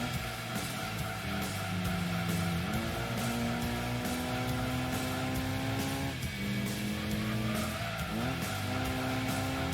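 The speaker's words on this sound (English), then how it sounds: "That rev match, I love that about this game. Just the rev match is so good sounding." A Honda NSX engine in Gran Turismo 2 holds a steady, buzzy drone near and loud, then blips sharply on rev-matched downshifts at several points.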